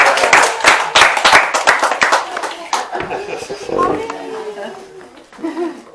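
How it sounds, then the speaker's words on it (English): A group of people, children among them, clap their hands in quick bursts during an outdoor walk at a tourist attraction, the claps loud and close, then trailing off as voices and chuckles take over. "And clap your hands together"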